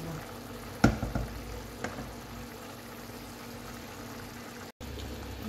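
Pasta water kept at a boil on a stovetop's boost setting, a low steady bubbling hiss with a couple of sharp clinks early on and a brief dropout near the end.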